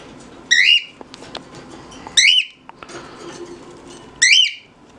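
A pet bird gives three loud, shrill whistled calls spaced about two seconds apart, each rising and wavering, close to the listener with a faint room hum and small knocks between them.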